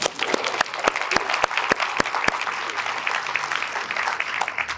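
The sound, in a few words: audience applause for the county commissioner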